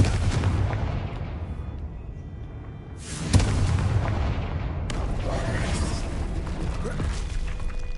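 Confringo fire spell explosions in the Hogwarts Legacy video game, a dense loud rumbling burst that fades, then two sharp boom onsets, the last settling into a sustained crackling roar.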